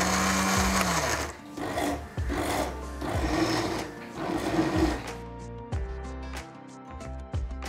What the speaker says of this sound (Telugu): ఇప్పుడు ఈ మిశ్రమాన్ని కూడా చల్లార్చి ఒక మిక్సీలో వేసి రుబ్బాలి